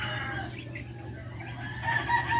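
Backyard chickens clucking with a rooster crowing, busy overlapping farmyard calls heard close, a steady low hum underneath, no speech.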